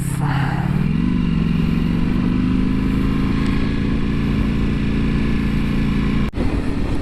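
A 2022 Ducati Panigale V4S motorcycle cruises on open road in fifth gear, its engine a steady close droning hum with constant wind rush throughout, and a brief dropout near the end.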